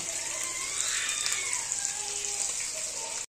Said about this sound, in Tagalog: Pero magprito-prito muna tayo habang pinapakulo natin yung isa.